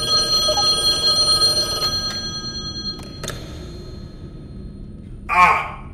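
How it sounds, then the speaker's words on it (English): An old-fashioned telephone bell rings in The Shining VR game, a sustained metallic trill with steady tones through most of the span, fading midway before a short sharper burst near the end; no talking. "There's a phone over there?"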